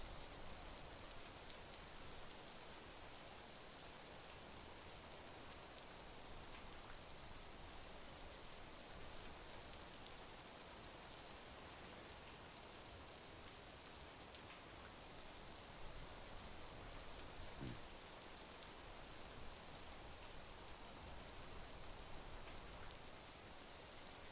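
Steady rainfall in the video game Death Stranding, a soft, continuous hiss of rain on surfaces with no voices, even and unbroken throughout.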